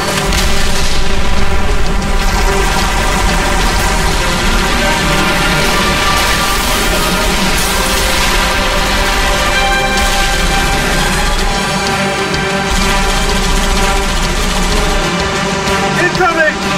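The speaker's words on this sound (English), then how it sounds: "Firing signal lock on the pylon. Detonating in 3, 2." A pylon detonates in the Halo Reach video game, a loud booming explosion that swells into a long, dense roar of rumbling and crashing debris, with voices over it.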